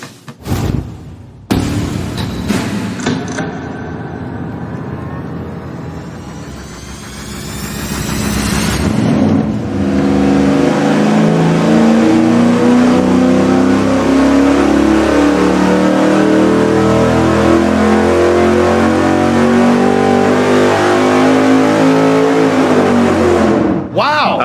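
Engine running on a dyno for a single versus dual exhaust test: it cranks, then revs up hard and holds a loud, sustained roaring pull before cutting off abruptly, with some talk near the start.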